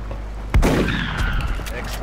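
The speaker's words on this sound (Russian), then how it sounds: "Применим двойной выстрел." One sharp, booming video game gunshot from a double shot in XCOM with the Long War mod, followed by a rumbling tail with some faint effects and no voices.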